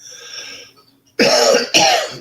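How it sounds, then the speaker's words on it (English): Two sharp, close coughs in quick succession follow a quieter, breathy stretch, each burst loud and rough. "So you'll forgive me if I cough now and then."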